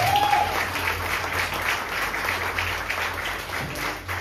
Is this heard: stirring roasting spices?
no